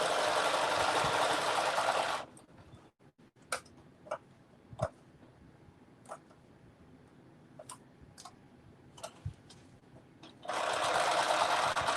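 A sewing machine stitching a tunic runs in steady, loud whirring bursts at the start and end. A quieter stretch between them holds scattered clicks and small handling taps.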